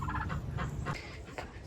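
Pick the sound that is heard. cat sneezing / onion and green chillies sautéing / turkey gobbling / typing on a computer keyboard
turkey gobbling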